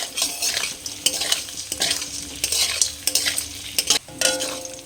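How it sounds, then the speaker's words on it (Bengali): Pumpkin pieces fry in a pan with sugar and poppy seeds, a spatula stirring and scraping against the metal in repeated bursts over a continuous light sizzle, no voices present. "কুমড়োটা হালকা এরকম লাল করে ভেজে নিয়েছি"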